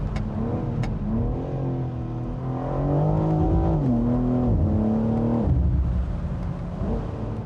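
A BMW M4 Convertible's S58 engine accelerates hard, a loud, close, rising growl that climbs through the revs in stepped pulls with brief dips at each gear change, with a couple of sharp pops near the start.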